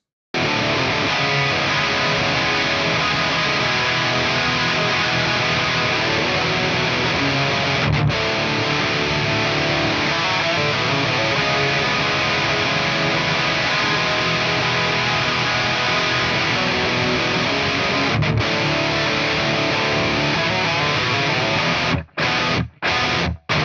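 Distorted electric guitar playing the chorus of a song, a dense, continuous wall of loud chords for over twenty seconds, with a couple of brief dropouts and choppy stops near the end.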